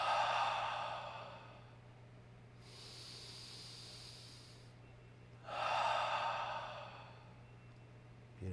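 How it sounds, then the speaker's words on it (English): Slow, deep breaths during a guided relaxation exercise, two long airy inhales or exhales separated by quieter breathing, close and soft against a faint low hum. "Let's keep breathing together."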